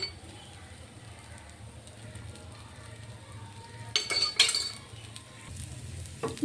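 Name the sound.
urad dal dosa sizzling on hot pan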